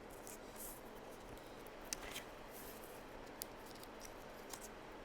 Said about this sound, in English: just get in there and cut those out